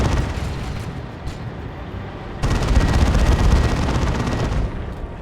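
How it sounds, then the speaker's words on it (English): Gatling chain guns fire in the Dawn of War 2 video game battle, a dense, roaring barrage of rapid shots that swells louder midway and keeps up as a sustained rattling wall of gunfire. "armed with a pair of gigantic Gatling guns"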